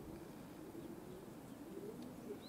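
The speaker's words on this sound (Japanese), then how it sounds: "飛び立たなかった鳩たちです。" Pigeons sit on a rooftop at a pigeon loft, giving soft, low cooing calls that repeat steadily at a moderate distance over faint background ambience, with no talking.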